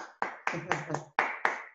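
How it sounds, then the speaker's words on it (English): A handful of sharp, separate claps, about seven in under two seconds, ring out close by as applause at a Bandung music event. A voice is faintly present underneath. "So an applause for Farhana, please."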